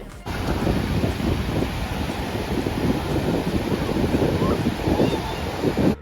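Pacific Ocean surf rolls in steadily with strong wind buffeting the microphone, a continuous loud roar of breaking waves and gusts throughout.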